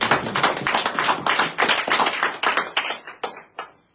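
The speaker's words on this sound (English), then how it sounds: "give yourselves a round of applause to that" Applause rises from an audience at the Free State opening, a dense patter of many hands that thins toward the end into a few scattered, separate claps, close and fairly loud with no talking.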